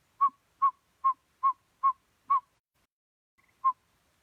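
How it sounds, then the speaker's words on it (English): A saw-whet owl gives a clear series of evenly spaced whistled toots, six in a row, then a short pause and one more, crisp and isolated against silence. "listen for saw-whet owls making their call"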